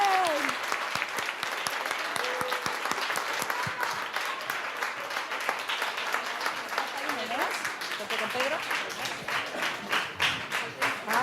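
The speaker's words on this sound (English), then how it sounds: "a big applause for the winners" Audience applause for the winners at the South Summit 2017 kids event, a steady crowd of clapping hands lasting throughout, with scattered cheers and voices rising over it.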